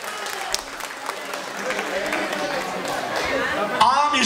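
Guests at a celebration clap for a few seconds in a crowd-wide applause, moderately loud and steady, with chatter and a voice over it.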